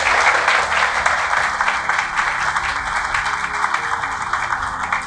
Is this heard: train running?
no